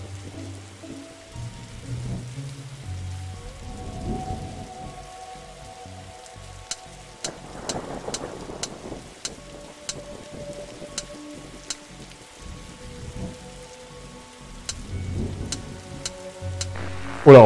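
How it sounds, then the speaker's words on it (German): A video game storm of steady rain patters throughout, with low rumbling thunder swelling in the middle and again near the end, and faint ticking drips scattered across the pouring backdrop. "Der Sturm klingt ab."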